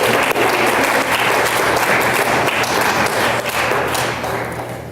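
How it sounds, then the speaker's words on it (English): Loud, continuous applause at a board of education meeting for the Impact Team, dense clapping filling the room throughout with a low steady hum beneath it. "How about another round of applause for our Impact Team?"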